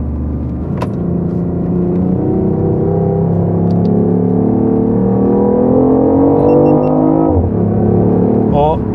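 BMW i8 hybrid engine rumbling loudly and steadily from close by, with a low droning tone that rises gradually in pitch before a brief dip near the end.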